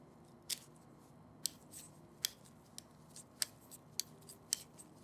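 A handheld sharpener works the tip of a threaded OSSIOfiber nail during a metacarpal fracture procedure, producing about nine crisp, faint snipping clicks at fairly regular intervals over a quiet background.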